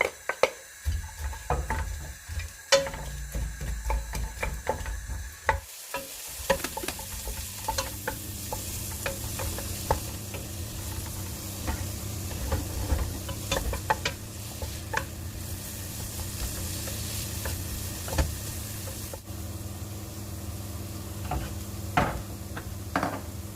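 A pan sizzles steadily with onion and garlic stir-frying, punctuated by sharp scraping and clinking of a spatula stirring, close and continuous.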